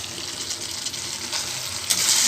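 Potato pieces for french fries or chilli potato fry in hot oil over a full gas flame, giving a dense, continuous hiss that holds steady and grows slightly louder toward the end.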